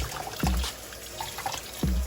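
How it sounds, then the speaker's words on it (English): Cold tap water runs and splashes while turkey wings are washed for Jamaican-style cooking, a soft continuous trickle broken by two low thumping splashes. "washing my turkey wings in cold water"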